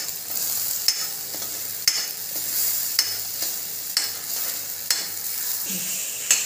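A spoon stirs spice masala of coriander and cumin powder in oil in a pan, scraping in a regular rhythm of roughly one stroke per second over a soft background sizzle.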